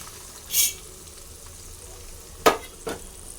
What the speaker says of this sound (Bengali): পেঁয়াজ কুচিকে লাল করে ভেজে নেব